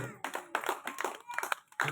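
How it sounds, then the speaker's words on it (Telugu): An audience breaks into a short burst of brisk clapping, moderately loud and close, with some fading in and out over a couple of seconds. "ఒకసారి గట్టిగా చప్పట్లు"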